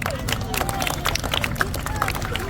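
Malappuram audience clapping along in a dense, continuous stream of hand claps over crowd noise, steady and fairly loud.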